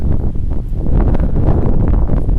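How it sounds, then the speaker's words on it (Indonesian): Strong stormy wind buffets the misty summit of Mount Prau at 2590 m, a loud, continuous rumbling roar with gusty swells and microphone buffeting. "Ini anginnya, kalau teman-teman bisa dengar, kabut, angin badai kencang nih."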